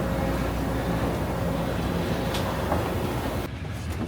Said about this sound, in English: And here it is, the Acela train